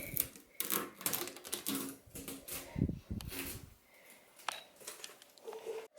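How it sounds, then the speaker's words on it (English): Protective tape peeled off a Clear Seal shelving unit in a gerbil setup, heard up close as a series of crackly, sticky rips and soft tearing bursts that come in uneven pulls. "I'm gonna start peeling away this tape on here."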